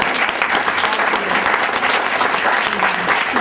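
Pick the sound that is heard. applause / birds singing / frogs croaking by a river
applause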